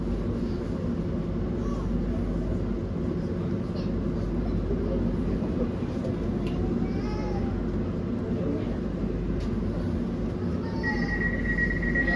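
A London Overground Weaver line passenger train bound for Enfield Town rumbles steadily along the tracks, with rolling low noise and occasional squeals and a brief high whine near the end.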